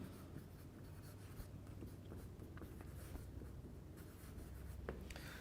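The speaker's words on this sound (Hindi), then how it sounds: "चलिए मैं कंप्लीट लिख देता हूं" Steady scratching of writing during a chemistry lecture, a continuous faint rasp of strokes with small taps, quiet and unbroken, with no voice over it.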